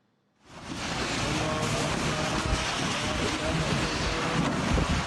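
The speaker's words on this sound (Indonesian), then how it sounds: "Angin kencang melanda permukiman padat penduduk di Temanggung." Strong gusting wind batters a densely populated residential neighbourhood in Temanggung, roaring as a steady, loud rush that starts abruptly and continues without a break, buffeting the microphone.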